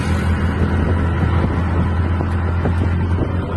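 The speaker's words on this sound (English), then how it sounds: "We're riding on the Keke Nape right now." Riding along in a keke napep auto rickshaw in Nigeria, with a loud, continuous small-engine drone and rushing wind buffeting close to the microphone throughout.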